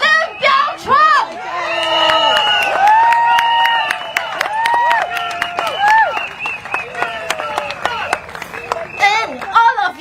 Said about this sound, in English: Please, I want a bigger round of applause for Mr. Lim Biao Chuan.